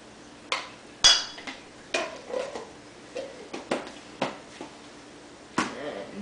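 Egg roll filling of cabbage and garlic being mixed in a bowl or pan, a close series of sharp utensil clinks and scrapes at uneven intervals, some louder than others, with no voices.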